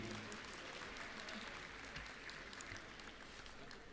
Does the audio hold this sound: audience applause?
yes